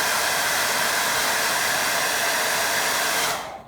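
A hair dryer blows steadily at close range to dry paint on a model fishing boat, a loud, even rushing whir that runs alone for several seconds before cutting off at the end.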